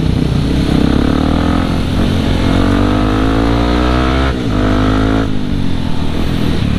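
An off-road car on a night road passes close by with a loud, steady engine roar whose pitch shifts as it goes past, heard over the constant rumble of a riding motorcycle.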